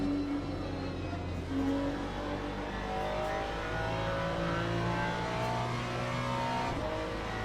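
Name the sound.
hypercar engines racing at Monza, from Le Mans Ultimate video game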